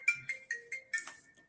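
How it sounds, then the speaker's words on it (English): A phone rings with a melodic ringtone, quiet and clean, sounding as a quick series of about five bright electronic chimes with short gaps between them and no talking over it. "Just keep ringing all the time."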